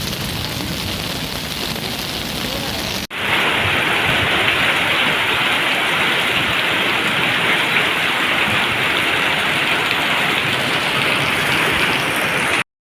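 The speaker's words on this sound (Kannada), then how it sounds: "ಅಂಗಡಿಗೆ ನುಗ್ಗಿದಂತಹ ನೀರು ಎಲ್ಲ ಅಂಗಡಿಯ ಒಳಗೆ ನುಗ್ಗಿದೆ ನೀರು" Floodwater from a cloudburst rushes into shops on Court Road in Puttur, a loud, unbroken torrent of water. A sharp cut partway through is followed by an even denser, hissing rush.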